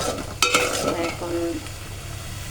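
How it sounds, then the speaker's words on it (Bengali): Spices sautéing in a pan as a spoon stirs them, sharp scraping strokes over a bright, continuous sizzle, close and fairly loud with no voices. "মশলাটা কষাচ্ছি, ভালো করে কষাবো।"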